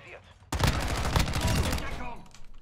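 Allied turret gunfire in a Call of Duty match bursts in suddenly after a quiet moment, a dense, loud stream of rapid shots that keeps rattling for about two seconds before easing off.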